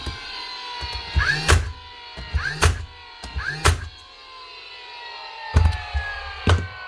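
A brand-new but faulty Dewalt DCN681 cordless staple gun fires five times up close. Each loud, sharp snap comes with a mechanical thunk and whir, in a group of three, a pause, then two more.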